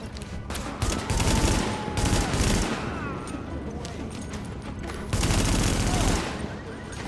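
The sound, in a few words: gunfire from video game The Division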